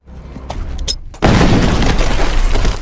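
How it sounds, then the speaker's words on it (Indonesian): A loud, sudden landmine explosion in a film booms close by after a brief rumble, followed by a sustained roar of debris and noise. "dia dan kudanya terkena dan meledak"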